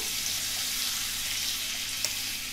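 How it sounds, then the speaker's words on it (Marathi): Butter hits hot oil in a pan for pav bhaji and sizzles steadily, a loud, even hiss that runs throughout with one brief crackle near the end. "तेलात गेल्याबरोबर सरसरलो पण"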